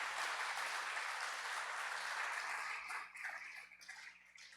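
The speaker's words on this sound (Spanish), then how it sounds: "Denle un aplauso a Dios." Church congregation applauding, a dense steady wash of clapping that holds loud for about three seconds, then thins and fades with some scattered claps at the end.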